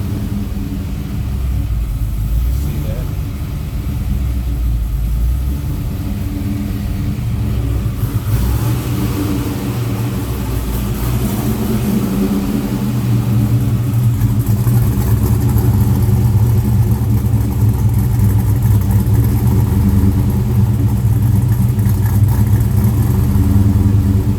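A car engine idles after flywheel work, a loud, steady low rumble that swells slightly partway through as a little gas is given.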